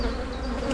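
Honeybees buzz steadily at an open hive during a spring inspection, a dense, continuous hum that is close and moderately loud.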